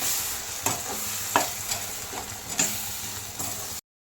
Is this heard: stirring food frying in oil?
yes